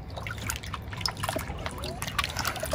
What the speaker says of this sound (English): I'll go ahead and rinse out the yams.